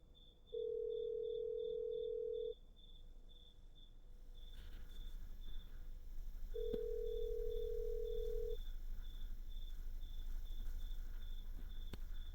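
In the video game Mother Wish 2, a phone rings in two long, steady electronic tones a few seconds apart, heard over a constant chirping insect ambience that thickens partway through.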